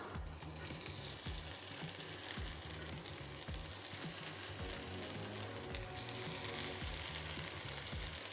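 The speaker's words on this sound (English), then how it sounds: "the Poffertjes are popping already" Vegan poffertjes pancakes fry in a pan, giving a faint, steady sizzle with soft repeated popping and bubbling throughout, quiet and close with no voices.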